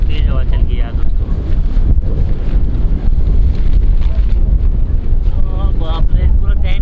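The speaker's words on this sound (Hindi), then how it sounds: "बाप रे, पूरा टेंट उड़ जाता है यार, इतनी तेज हवा चल गई।" Strong mountain wind buffets a tent, roaring and flapping in loud gusts with heavy low rumble against the microphone, while a voice speaks briefly beneath the noise.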